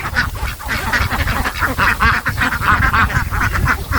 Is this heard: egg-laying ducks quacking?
yes